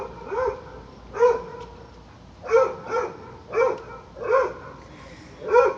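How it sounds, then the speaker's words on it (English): A dog barks repeatedly, roughly seven sharp woofs spaced a second or so apart, moderately close and clear, with no talking. "there's a dog barking"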